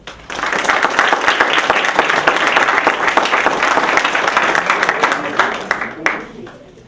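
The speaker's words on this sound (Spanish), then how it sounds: "Un aplauso, por favor." Sustained applause from an audience at an academic closing ceremony, dense clapping holding steady for about six seconds before tapering off quickly.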